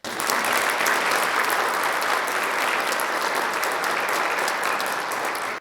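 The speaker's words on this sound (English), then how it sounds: "Let's give Katie one more round of applause." An audience at a DePauw Athletics Hall of Fame induction ceremony claps steadily, a dense, sustained round of applause filling the hall for several seconds before cutting off abruptly.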